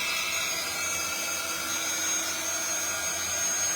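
A handheld drying tool blasts a steady, loud whooshing hum while drying layers of paint, continuous and unchanging from start to end, with no talking.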